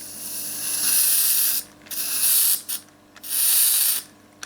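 CO2 gas hissing out slowly from an Umarex Marlin air revolver, close and loud, in several long bursts separated by brief pauses.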